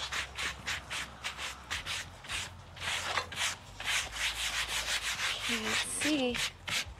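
A hand scraper pushes sawdust off a freshly milled cherry wood slab at a sawmill in quick, repeated rasping strokes, close and fairly quiet, with brief speech near the end.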